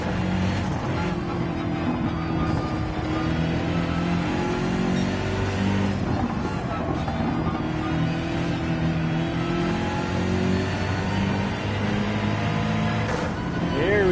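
A BMW race car engine drones steadily in Gran Turismo, a loud continuous tone rising and falling with gear shifts and throttle through a corner, with tyre noise and game sound throughout.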